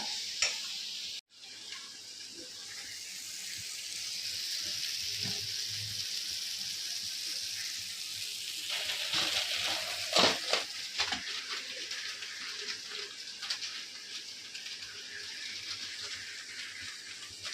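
Steady sizzling of oil frying a tempering in a pan for Maggi noodles, with occasional crackles and a few clinks of a utensil stirring, close by.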